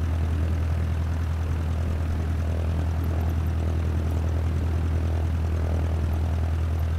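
Steady propeller-engine drone of a Cessna taxiing to general aviation parking at Santa Fe in Microsoft Flight Simulator 2020, a continuous low hum with no voices.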